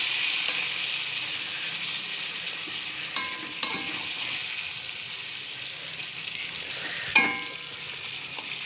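Phasa fish and brinjal frying together in a pan for a mustard curry give a steady, bright sizzle throughout, with a few soft stirring scrapes and a sharper crackle near the end. No one speaks.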